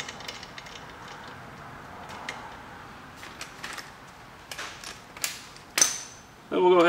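A nut being run down onto the upper spring mount of a 2016 Camaro SS, heard as faint creaks and scattered ratchet-like clicks over a low background, ending in a louder burst of metallic rattling.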